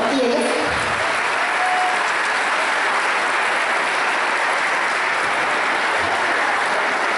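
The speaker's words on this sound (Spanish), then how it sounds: "un fuerte aplauso para ellas, por favor, y ellas." An audience at a school artistic gala of gymnastics, singing and music claps in loud, dense, sustained applause that fills the room, with a voice briefly heard near the start.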